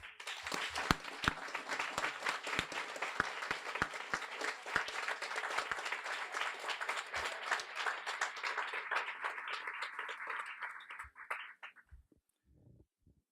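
An audience at a guide dog school graduation applauds puppy raisers: a full round of clapping with some sharp, distinct claps that holds steady for about ten seconds, then thins out and fades to a few scattered claps.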